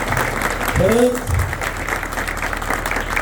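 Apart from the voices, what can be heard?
audience applauding the drum troupe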